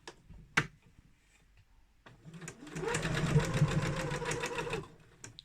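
A sewing machine stitches a drawstring bag, a quiet run of rapid, even mechanical needle ticks lasting about two seconds after a few faint clicks and handling sounds, with no one talking.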